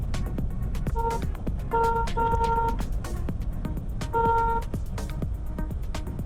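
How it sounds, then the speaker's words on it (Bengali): A car horn honks in several short and longer toots with gaps between them, loud and close, during a driving lesson on a highway, over road and engine rumble. "হর্ন বাজাও"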